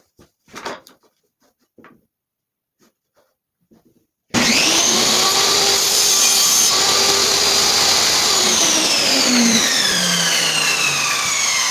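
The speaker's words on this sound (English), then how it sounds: "So now we're over to the bandsaw. Or not the bandsaw, the table saw." A table saw cuts wood for a wooden short sword, starting abruptly after faint handling noises, then a loud, steady, close whining rasp of the blade through the board that holds for several seconds and shifts pitch slightly as the cut finishes.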